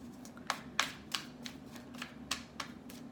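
Tarot cards are riffled and slapped together in quick, soft bursts, about ten crisp flutters in a few seconds, close and quiet with no talking.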